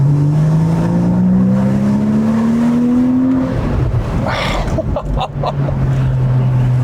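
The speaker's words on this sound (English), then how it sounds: "it's just replaced by what must be one of the most glorious engine notes in all of automotive" A Porsche Boxster S engine revs hard, its note climbing steadily, then drops away into a lower drone with wind noise, loud and close.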